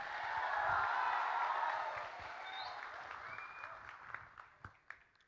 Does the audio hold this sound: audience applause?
yes